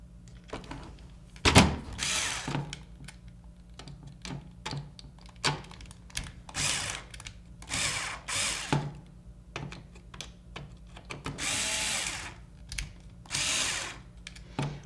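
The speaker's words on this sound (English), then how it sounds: "unscrew these 4 screws here, or loosen them, not unscrew them." Screws on a Nerf Raider CS-35 blaster are loosened with a power drill or driver, giving several short whirring bursts separated by pauses, close and fairly quiet.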